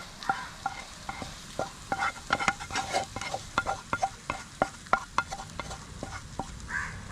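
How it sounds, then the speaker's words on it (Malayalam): Hot tempering spooned into a simple Kerala lentil curry (parippu) and stirred, heard as a soft background sizzle broken by regular clinking ladle taps against the pot, with no voices. "ഇനി നമുക്ക് ഈ താളിപ്പെടുത്ത് നമ്മുടെ കറിയിലേക്ക് ചേർത്ത് കൊടുക്കാം."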